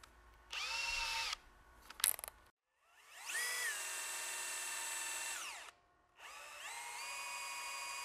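A power drill bores holes in a Kitfox aircraft horizontal slider block, whining in three long bursts with rising and falling pitch as it spins up, bites and slows, close by with short gaps and a brief clatter between.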